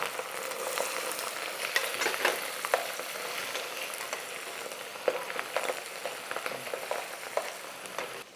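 Small onions and cumin seeds frying in oil for idli sambar, a steady, soft crackling hiss with scattered tiny pops, close but fairly quiet and continuous, with no one talking.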